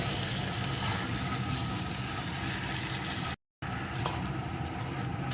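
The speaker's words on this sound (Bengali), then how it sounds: "এখন এই মাছের মাথাটাও মশলার সাথে একটু কষিয়ে নেব" A fish head sautés with spice masala in a pan for a Bengali moong dal dish, giving a steady, dense sizzle that cuts out for a moment and then resumes.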